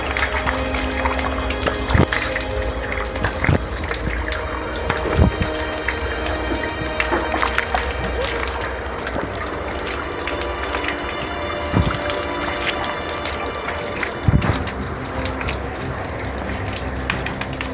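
Sacred spring water at a sendang shrine in Alas Roban, Batang, runs and splashes steadily during ritual Islamic ablution, with a continuous close gushing and occasional sharper splashes and drips.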